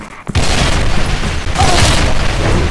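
A grenade blast in the shooter game Soldier Front 2 hits as one sudden loud boom after a brief quiet moment, followed by a sustained rumbling, crackling roar that stays close and heavy until the end.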